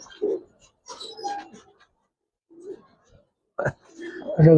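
Giribaz and coloring pigeons in a loft give several soft, close coos in separate bursts with gaps of quiet between them, the last call louder and fuller.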